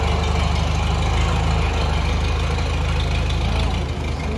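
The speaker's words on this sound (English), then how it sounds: "Taking out the tractor today to do a little bit of work on it" A tractor engine runs steadily at idle on a farm, a loud, close, low throbbing rumble with a regular chugging pulse that holds evenly and dips slightly at the end.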